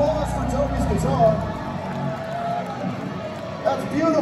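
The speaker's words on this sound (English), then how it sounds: "Round of applause for Toby's guitar." A concert crowd at The Masquerade in Atlanta cheers and applauds for a custom guitar headstock at a metal show, a continuous roar of voices and clapping with chatter mixed in.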